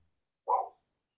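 A single short dog bark sounds at a moderate distance, brief and clear against otherwise quiet surroundings.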